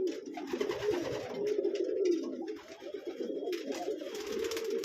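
Pigeons in a loft coo continuously up close, deep throaty rolling calls overlapping one another with faint flutters and rustles around them.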